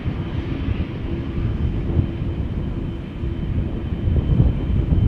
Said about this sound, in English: BA going to Gatwick